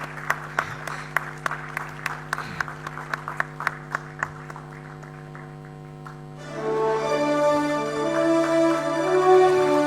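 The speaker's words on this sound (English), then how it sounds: "please give a big round of applause to Mr." Audience applause at a postgraduate convocation ceremony: sparse, crisp claps ring out over sustained background music, then the claps stop and the music swells louder alone.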